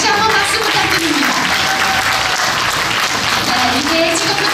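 Audience applause at an outdoor Korean traditional performance show in Gyeongju, a dense steady clapping from a large crowd sustained throughout, loud and continuous with no one speaking over it.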